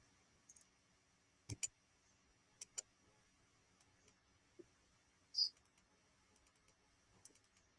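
Sparse, crisp computer mouse clicks sound while working in Polyboard cabinet design software, a few isolated single and double clicks against a quiet room background.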